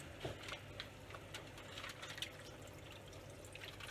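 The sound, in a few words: pouring venison juices into redcurrant sauce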